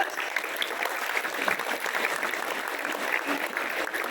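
A crowd at an outdoor religious gathering claps steadily, a dense continuous patter of applause without clear breaks.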